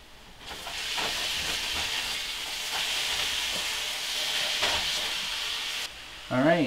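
Onion cooks in a frying pan with a steady hiss and sizzle that fills most of the stretch, and a brief voice comes in right at the end.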